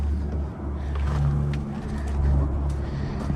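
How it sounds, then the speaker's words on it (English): A Nissan car drives on a test drive after a drum brake job, its engine a steady low hum with road rumble that rises and falls slightly, close and continuous with no talk. "Let's go ahead and take this thing for a test drive."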